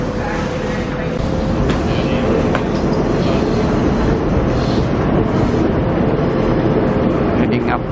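Train standing at platform 10 in Brisbane with passengers unloading, a steady broad rumble of idling rail equipment and station ambience throughout, with a faint tonal hum and occasional clanks.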